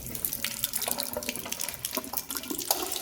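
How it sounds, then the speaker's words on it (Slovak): A sink tap runs in an abandoned school, with water splashing steadily into the basin and small spattering drops, close by and continuous with no one speaking. "Voda tu normálne tečie ešte."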